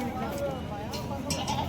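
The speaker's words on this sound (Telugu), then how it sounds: "ఇవన్నీ మేకలు చూడండి" Goats bleat in a busy weekly outdoor goat and ram market at Kothacheruvu, their calls mixed with chatter and general market noise throughout.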